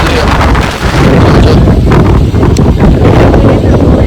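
Strong storm wind whips along a roadside in Haridwar, roaring and buffeting the microphone in loud, unbroken gusts.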